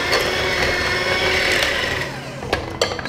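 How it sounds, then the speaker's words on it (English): Electric mixer creaming butter and sugar for an almond amaretto birthday cake, a steady whirring drone through most of the stretch, then easing off with a couple of sharp clatters near the end. "So now I cream the butter and sugar."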